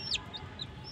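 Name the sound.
chickens, young hens and roosters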